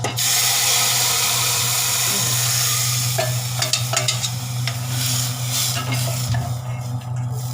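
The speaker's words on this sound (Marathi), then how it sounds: "फोडणी दिलं, चांगली फोडणी करपूक द्यायची" Tempering crackling in hot oil for a sweet toor dal, a loud, dense sizzle with a steady low hum and sharp pops and stirring clicks.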